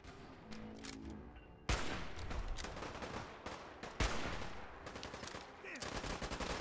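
Gunfire in Fallout 4 against super mutants: rapid close shots and bursts with two sharp heavy blasts over a steady background of game effects, and no speech.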